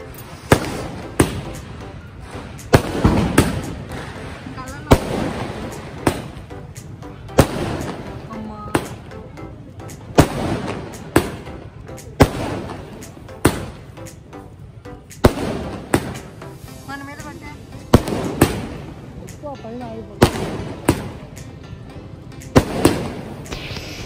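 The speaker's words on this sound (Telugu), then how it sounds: "అక్కడ వాళ్ళు అన్నీ అవేమంటారు టపాసులు అవన్నీ ఫుల్గా పెట్టేస్తున్నారండి" Diwali firecrackers and fireworks burst around a home, a steady stream of sharp bangs and crackling pops with loud peaks every second or so, with faint voices underneath.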